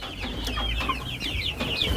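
Chickens on a poultry farm, several birds clucking and cackling close by in quick, overlapping bursts against low barn background noise.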